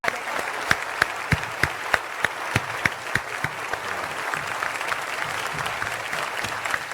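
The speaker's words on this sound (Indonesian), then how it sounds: "Boleh kita berikan tepuk tangan." An audience applauds at a farewell tribute event, a sustained roar of clapping with a few sharp, regularly spaced louder claps standing out near the front.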